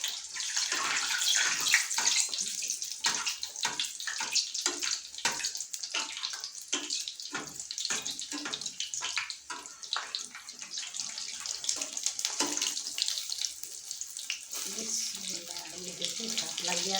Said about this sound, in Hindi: ये ऐसे हम इनको फ्राई करेंगे।